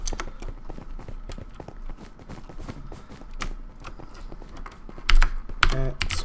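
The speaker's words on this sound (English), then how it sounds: "I'm just gonna type out shout out" Rapid, irregular keystrokes on a computer keyboard clatter up close, with a louder burst of key presses near the end, during a Minecraft session.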